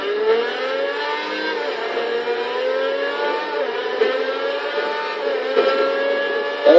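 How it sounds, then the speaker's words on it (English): McLaren F1 GTR Longtail race car engine from the 1999 model in GTA, revving high and steady with rising and falling pitch sweeps, close and loud, ending in a sharp spike. "this thing actually sounds like the McLaren F1"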